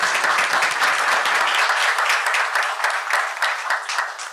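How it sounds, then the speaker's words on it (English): Dense, loud applause from an audience at an ocean-focused satellite event, steady for several seconds and then thinning into scattered claps. "a big round of applause again for everyone behind the scenes that made this event happen"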